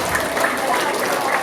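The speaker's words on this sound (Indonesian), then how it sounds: "Ya, tepuk tangan, Bu." A crowd of villagers at a community dialogue meeting in Pengarasan, Tegal, applauds, producing a steady, dense wash of clapping that is fairly loud, with a hint of voices mixed in.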